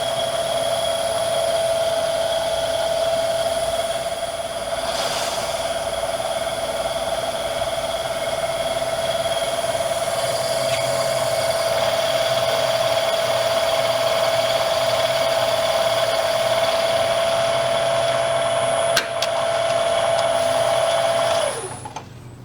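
A metal lathe cuts with a freshly changed insert, giving a steady, loud high-pitched whine that holds unbroken for about twenty seconds before dropping away abruptly as the cut ends.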